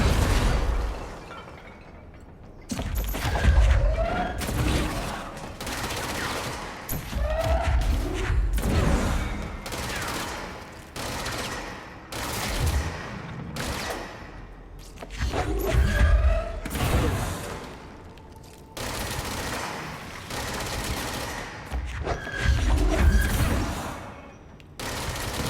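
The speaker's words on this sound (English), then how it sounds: "Who's shooting rockets and stuff?" Repeated heavy blasts and gunfire bursts from combat in the video game Control on PS4, booming explosions with rattling shots in clusters across the stretch, loud and close, with short lulls between volleys.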